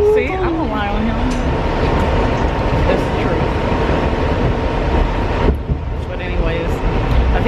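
Loud rumbling of a New York City subway train in a Harlem station with screeching metallic tones and echoing noise, voices faintly mixed in.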